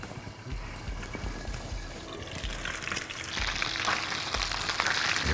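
Snow fish deep frying in hot oil, a continuous bubbling sizzle with a soft low thumping pulse that grows busier and brighter toward the end.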